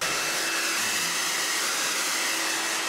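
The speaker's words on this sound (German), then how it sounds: "jetzt föhne ich mir ganz normal die Haare" A hair dryer blows hair dry at close range, a loud, steady whooshing roar of air and motor that holds constant from start to end.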